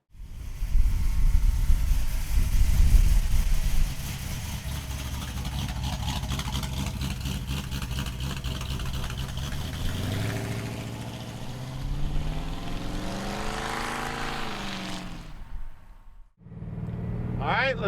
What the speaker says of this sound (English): let's go for a ride in our 54 F100